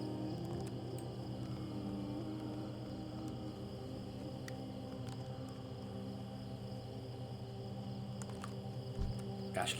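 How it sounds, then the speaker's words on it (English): Crickets chirp steadily through a night setting in the Draenei starter zone of World of Warcraft, a dense, continuous insect drone running the whole stretch at even loudness with no talking over it. "can you guys hear like the crickets because it's nighttime right now?"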